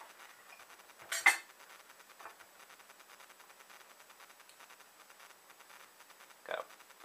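A knife cuts through a pimento cheese-stuffed hamburger, giving two short clinking scrapes against a plate, one early and a fainter one near the end, over a quiet background.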